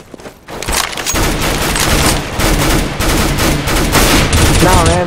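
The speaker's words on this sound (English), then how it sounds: "Sniping with the CZ." Loud, dense gunfire from a CZ sniper rifle in a video game fills the whole stretch with rapid, overlapping shots that hardly pause.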